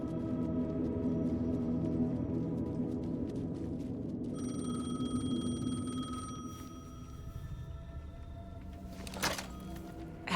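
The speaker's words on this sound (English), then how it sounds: "The payphone was ringing." A payphone rings in the video game Alan Wake 2, a steady electronic bell tone sounding over a low, droning ambient backdrop, fairly quiet and alone without voices.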